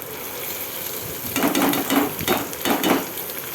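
Chicken liver frying in oil in a pan, a steady sizzle with a few bursts of stirring and scraping partway through, close and moderately loud.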